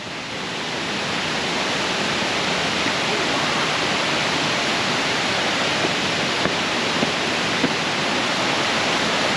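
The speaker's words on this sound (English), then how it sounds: "She found another waterfall." Kroeng Krawia Waterfall in Khao Laem National Park, Thailand, pours in a steady, dense hiss and roar of falling water, close and unbroken, with no voices over it.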